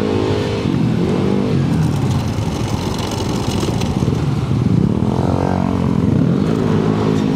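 Engines of cars and tricycles fill a busy barangay street during a Yamaha NMAX scooter ride, a loud, continuous drone with motors revving and passing close by.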